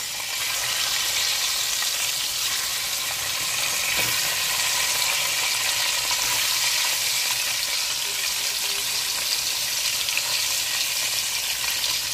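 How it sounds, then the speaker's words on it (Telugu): Eggs fry in hot oil with turmeric, giving a steady, dense sizzle and crackle that runs unbroken and fairly loud throughout, with faint stirring and no talk. "అంటే గుడ్లు వేయించుకోవటానికండి, కలర్గా ఉంటాయని, మంచి కలర్ వస్తుంది."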